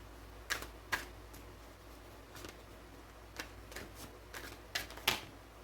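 Tarot cards being shuffled and flicked, giving soft, sparse papery snaps and riffles at irregular intervals, quiet and close with no talk.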